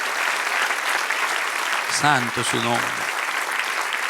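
A church congregation applauds during a sermon, with sustained, even clapping throughout as a voice speaks briefly over it midway.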